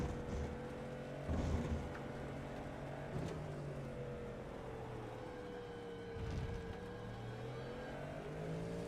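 A Le Mans race car on the Circuit du Mans, its engine droning steadily on part throttle with gentle pitch shifts, heard from a moderate distance with a few brief louder surges and no talk.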